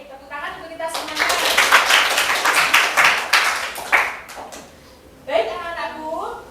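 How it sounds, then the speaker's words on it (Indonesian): Students in a vocational high school classroom break into a burst of clapping lasting a few seconds, loud and close, with a teacher speaking before and after. "tepuk tangan untuk kita semuanya"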